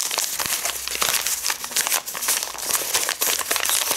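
Small plastic sachets, three packets of dough-bag material, crinkle and rustle in the hands, a dense close-up run of sharp crackles and crumples that keeps on without a break.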